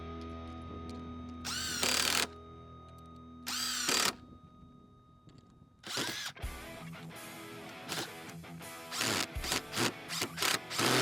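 A TECCPO 20V MAX 1/4-inch impact driver whirs in two long bursts, then a rapid run of short, loud buzzing bursts as 2-inch screws are driven in, close by.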